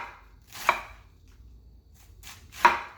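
Two sharp knife chops on a cutting board about two seconds apart, prepping Jamaican-style salt fish and cabbage with buckwheat, each a crisp thud-crack standing alone over a quiet background.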